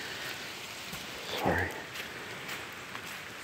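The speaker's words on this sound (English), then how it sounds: "Never quit raining." Steady rain falls outdoors in a broad, even hiss, with someone speaking briefly in the middle over it.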